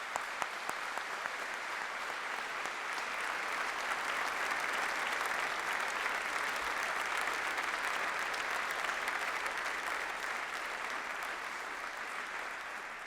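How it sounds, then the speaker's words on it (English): Sustained applause from a large audience for graduates at a university graduation ceremony, an even, dense roar of clapping that holds steady throughout with no voices on top. "we and you should take this opportunity to applaud them in recognition of their achievements"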